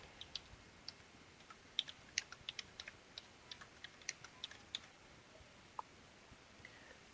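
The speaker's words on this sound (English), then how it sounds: "Let's type something." Typing on a Logitech K375s multi-device keyboard: faint, irregular light key clicks in quick, uneven runs over a quiet background, close to the keyboard.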